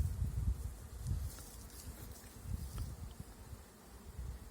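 Honeybees at a hive in Kırklareli, with three colonies about to swarm, give a low, steady buzzing hum close by, mixed with soft rustling and no voices.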